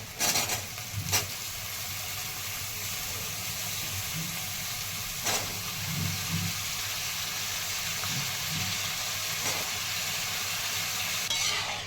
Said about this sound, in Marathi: कांदा छान परतलेला आहे आणि आपल्याला बटाटा सुक्क करायचा आहे म्हणल्यावर आणखीन परतेल त्यामुळे आता मी बटाट्याचे ह्या फोडी टाकून घेत आहे